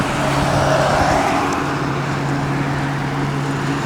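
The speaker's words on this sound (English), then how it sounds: "I don't know what these mufflers are, but they got a real nice sound to them." A Harley Davidson CVO Ultra Classic FLHTCUSE4 engine idles through aftermarket mufflers, a loud, steady low rumble held throughout at close range with no speech.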